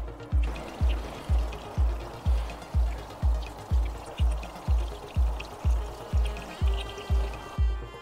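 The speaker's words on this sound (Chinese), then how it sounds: "我们现在直接把水流注到雨刷上面，这样子可以让制造模拟一种水量最大的时候。" Water from a hose poured onto the windshield wipers of a Toyota Corolla Cross: a steady splashing pour pulsing in an even rhythm, about two surges per second, close and moderately loud, with no talk.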